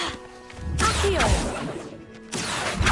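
A spell sound effect from the video game Hogwarts Legacy: a broad whooshing burst with a rising swish in the middle, fading, then returning loudly, over a low game hum.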